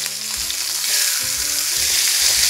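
Pork loin medallions with fresh thyme frying in a pan, a loud, continuous close sizzle with no voices.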